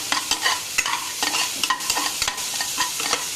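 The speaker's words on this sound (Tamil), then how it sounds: "வெங்காயம் நல்லா வதக்கிட்டு" Onions sizzling with salt in a hot pan while a spatula stirs and scrapes, with steady crackling and repeated clinks close by.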